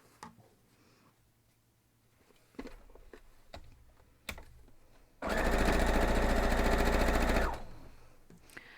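A few light clicks and taps, then a sewing machine runs fast and loud for about two seconds, stitching a quilt block, before stopping.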